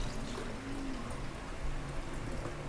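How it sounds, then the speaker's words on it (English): Filtered water poured into the large removable tank of a Wirsh 15-bar espresso machine, a faint steady splashing trickle running throughout. "I put filtered water into it."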